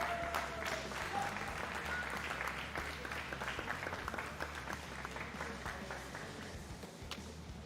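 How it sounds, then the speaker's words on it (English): An esports LAN audience in Chennai applauds both teams after a match, a sustained wash of many hands clapping that holds steady throughout and fades slightly toward the end. "can we have a huge round of applause for both these teams?"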